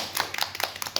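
Short, irregular patter of clapping hands from a small group gathered at a Universitas Terbuka community service event, close and moderately quiet, lasting about a second.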